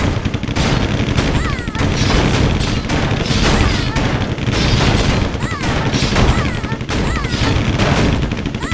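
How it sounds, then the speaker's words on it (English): Dense, continuous machine-gun fire from a Warcraft 3 game scene, with overlapping rapid bursts and booming impacts that stay loud and unbroken for the whole stretch, without a pause. "a bunch of fucking people are firing machine guns at kids"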